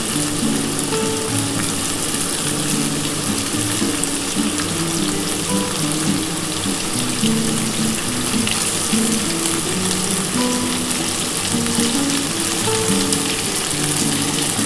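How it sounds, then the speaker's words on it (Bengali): Potatoes and yardlong beans frying together in a pan, a steady close sizzle with a continuous bright hiss and faint stirring scrapes, unbroken throughout with no talk. "আলু আর বরবটি কিন্তু একসাথেই ভাজবো"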